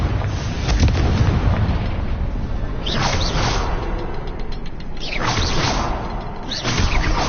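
Confringo fire spell blasts in Hogwarts Legacy, a series of booming, rushing explosions with whooshing bursts around three, five and seven seconds over a loud continuous rumble, no talking.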